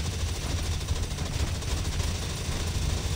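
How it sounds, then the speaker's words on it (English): Gunfire aimed at the player in the video game Dino Squad, a loud, continuous rattle of rapid shots that runs without a break and with no talking. "He's actually shooting at me."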